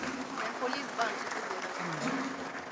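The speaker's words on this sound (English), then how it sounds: "So a round of applause" Steady applause from a crowd at a university convocation ceremony fills the space, a continuous wash of clapping at moderate distance with no breaks.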